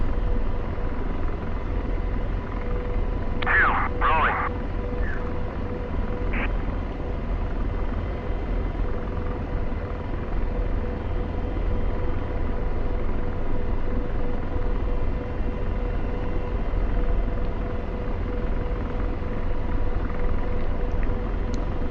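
AH-64 Apache helicopter in the DCS combat flight game, on a straight takeoff, with a steady low rotor and engine drone that holds at an even level for the whole stretch, broken only by a few brief clicks near the start.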